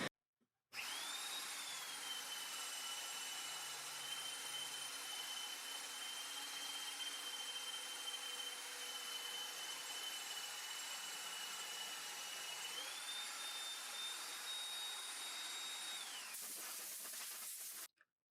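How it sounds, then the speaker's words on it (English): A steady, high-pitched whine of a magnetic drill cutting into thick metal, continuous for many seconds, pitch shifting slightly near the end before it stops abruptly. "This mag drill is really amazing."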